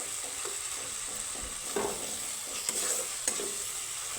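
Tomato and spices frying in a pan while a spatula presses and stirs them soft, a steady sizzle broken by several scraping, clacking stirs, close up and fairly quiet.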